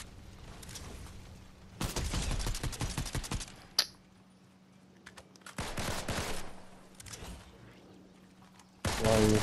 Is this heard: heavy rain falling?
no